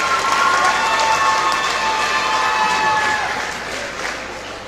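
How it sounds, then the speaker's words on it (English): Sustained audience applause from a gym crowd at a high school basketball game, honoring senior cheerleaders; steady dense clapping mixed with a few cheers and whistles, loud throughout and tapering slightly near the end. "please give a big round of applause to our senior cheerleaders"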